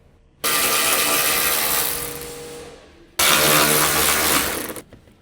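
A ratchet wrench spins out the upper crossmember mounting bolts during radiator replacement on a 2006-2015 Honda Civic, in two sustained whirring bursts separated by a short pause.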